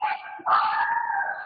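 A dog gives a drawn-out, howling bark, a short yelp followed by a longer sustained cry, close and fairly loud.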